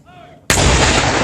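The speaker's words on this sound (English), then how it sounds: "Artillery, be prepared for salute by Alpha Battery, 2nd of the 218th Field Artillery." A field artillery battery fires a ceremonial salute: a single sudden, very loud cannon blast that booms and rolls on after a brief quiet lead-in.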